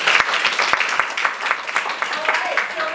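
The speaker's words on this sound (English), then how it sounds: "let's give them a nice round of applause" Audience applause after an improv comedy performance, a dense wash of clapping with a few sharp nearby claps, steady for several seconds with some voices mixed in.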